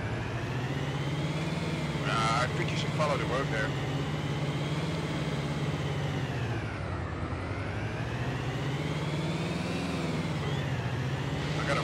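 A tank engine idles in the DayZ Epoch game on the Namalsk map, a steady low droning rumble with a slight rise and fall in pitch, running continuously under a voice.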